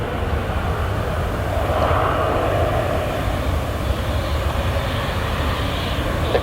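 An airliner takes off from runway 25 at Luton Airport, a loud, steady jet engine roar heard from a distance that holds for several seconds with a broad rumbling wash and no talking.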